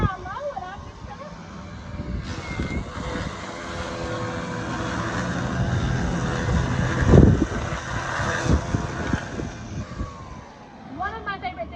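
An EGO Power+ cordless weed trimmer running on low speed gives a steady electric whirring drone under a person talking, swelling a little toward the middle.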